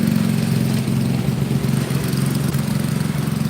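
A Wheel Horse B115 lawn mower engine idles steadily and loudly with an even, continuous drone and slight rhythmic flutter, close by with no talking.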